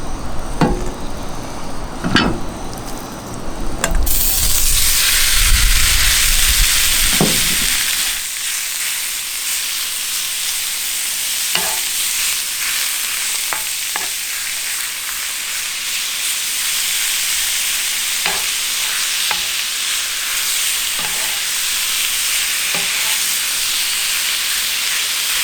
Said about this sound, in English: And we will put a little bit more olive oil down. And let's throw on this meat.